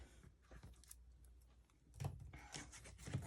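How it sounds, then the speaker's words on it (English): Scissors snipping off excess paper while assembling a handmade mini album, a few soft close cuts and rustling handling of the paper, quiet throughout. "I'm just going to reach up in here and I'm going to snip off what I don't need."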